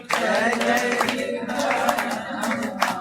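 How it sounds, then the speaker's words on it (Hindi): Audience clapping during Maithili-language devotional singing at a Bhagavat Katha gathering, steady rhythmic claps layered over a chanting voice and accompaniment, moderately loud and continuous. "ई ताली जे बजबै छियै ई भेल चारिम प्रक्रिया।"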